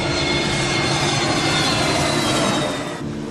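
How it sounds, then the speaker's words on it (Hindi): An airplane takes off from a runway at Mumbai airport, a loud, steady roaring jet-engine rush that fills the clip and eases slightly near the end. "मुंबई के हवाई अड्डे से विमान रनवे पर दौड़ता हुआ उड़ान भरता है।"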